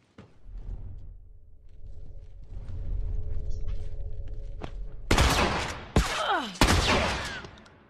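Gunfire from The Last of Us multiplayer erupts in several loud bursts of rapid shots after a stretch of quieter in-game rumbling and movement.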